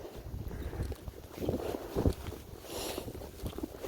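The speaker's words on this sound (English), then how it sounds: "I feel the wind now." Wind gusts buffet the microphone during a winter walk outdoors, a steady low rumble with stronger surges around the middle of the stretch, and no talking.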